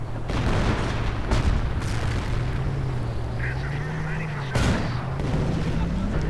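Artillery and gunfire in a WWII strategy video game, with a StuG and Panzer units in combat: several sharp, loud blasts break out over a steady low engine drone and battle din.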